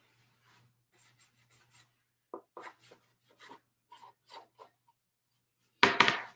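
Dry scraping and rubbing strokes come in short, separate passes as sandpaper distresses the painted edges of a wooden Halloween coffee sign, close and fairly quiet, ending in one louder scrape.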